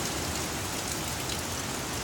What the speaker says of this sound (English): We got light rain.